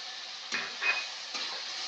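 Spices for chicken kosha frying in a pan on the stove: a constant soft sizzle with two or three brief stirring scrapes, close and fairly quiet, and no voices.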